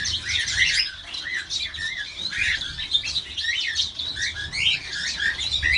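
Many small birds chirp and trill busily in an aviary, overlapping bright calls close by in quick irregular bursts with no talking.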